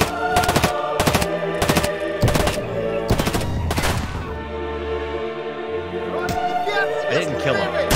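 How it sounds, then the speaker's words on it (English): Gunfire in the video game Escape from Tarkov, with several sharp, loud shots in an irregular burst followed by scattered further shots and rattling game noise, heard close. "Did you hear those gunshots?"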